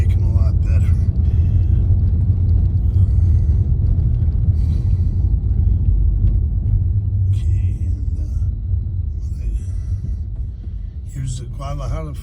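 A car crawls slowly over a tope, a raised speed bump on a street in Chapala, Mexico, giving a steady low in-cabin rumble with engine drone throughout that eases slightly near the end.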